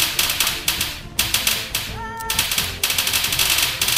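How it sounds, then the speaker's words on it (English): A light machine gun fires in Unturned PVP, with rapid bursts of shots in steady rhythmic runs broken by short pauses, close and loud, and a brief tonal chime in the middle. "That's it, light machine guns."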